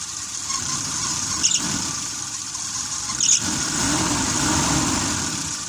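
Mitsubishi L300 gas engine running steadily at idle, with a constant close hum and a couple of brief sharper clicks.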